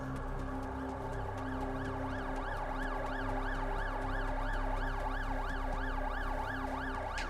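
An ambulance siren in the video game The Alters wails in a steady, rapidly repeating rising-and-falling pattern, faint and distant under a low ambient hum.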